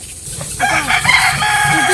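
A rooster crows in one long, loud, drawn-out call over steady background noise outdoors, near food being cooked in the open at a farmhouse near Mamallapuram.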